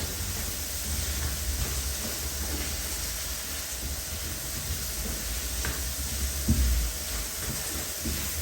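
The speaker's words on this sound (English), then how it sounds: "I'm just going to saute these" Black pepper sauteing in a pan over low heat, a steady soft sizzle and hiss with a brief stir or scrape near the end, no talking.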